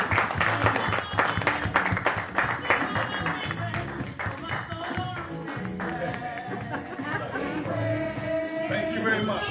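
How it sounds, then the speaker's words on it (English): An audience applauds a DJ at a live event, with scattered clapping and crowd noise mixed against music and occasional voices, fairly subdued and uneven rather than a full roar. "Give me another round of applause."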